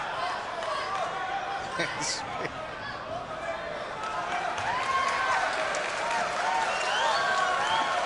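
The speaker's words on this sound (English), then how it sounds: "Crowd enjoying the debate about the change or not of the shuttle." A crowd at the 2015 US Open badminton men's doubles final murmurs and reacts, a loose wash of voices and scattered claps with a brief squeak, rising slightly toward the end.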